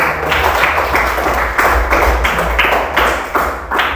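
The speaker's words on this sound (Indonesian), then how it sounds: "Tepuk tangan dulu semuanya." Schoolchildren clap together in a classroom, a group of claps made of sharp, loud slaps that come in quick bursts, close by, with a few short pauses, and no talking over them.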